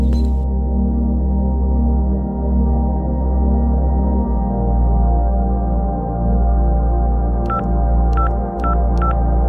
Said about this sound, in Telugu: ఒకసారి కార్తిక్ కి ఫోన్ చేద్దాం.